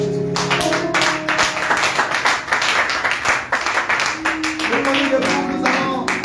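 A church congregation claps together to acclaim Jesus, a lively rhythmic applause of many hands that continues steadily under a singing or talking voice and background music.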